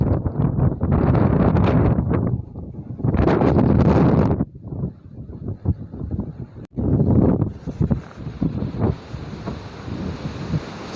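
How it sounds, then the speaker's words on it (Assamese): Strong wind buffets the microphone in loud, sustained gusts at night by the Golden Temple in Namsai, Arunachal Pradesh, rising and falling in waves with brief lulls, then settling into a steadier rumble with a high hiss. "বহুত জোৰে বতাহ মাৰিছে"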